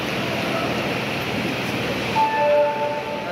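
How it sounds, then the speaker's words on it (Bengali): Crowded ambience at Sealdah railway station in Kolkata, busy with passengers: a steady, broad din throughout, with a brief high squeal near the end. "শিয়ালদা স্টেশনটি অনেক বড় এবং এখানে প্রতিদিন অসংখ্য যাত্রী কিন্তু ওঠানামা করে"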